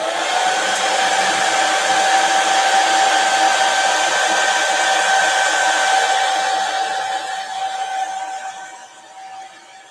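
A hair dryer blows steadily and loudly on a Mylar stencil, working into small cut details; the airflow hum is continuous and close, easing slightly toward the end with no talking.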